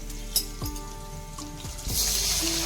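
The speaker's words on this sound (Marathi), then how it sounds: "आता आपण हा जवळा टाकणार आहोत" Wet jawla shrimp hit a hot pan already holding brinjal, setting off a sudden loud hiss that builds into steady sizzling after a few light clinks.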